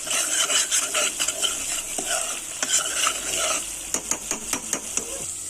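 A spoon stirs and sautés veg biryani masala paste in hot ghee, giving a loud, close sizzle broken by quick scraping strokes and a run of sharp rhythmic taps against the pan toward the end.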